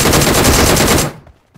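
A burst of rapid automatic gunfire in the video game PUBG Mobile rattles loudly for about a second, then stops abruptly, leaving near silence.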